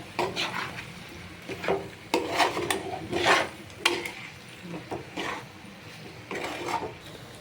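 Chicken pieces being mixed by hand with coarse masala, giving soft wet squelching and scraping in irregular bursts, close up and fairly quiet, with no voices.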